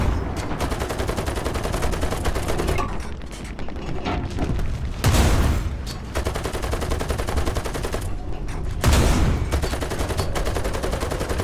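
Artillery and gunfire in the tank combat game War Thunder: continuous loud battle noise with rattling fire and two heavy booming blasts standing out near the middle and later on, no talk.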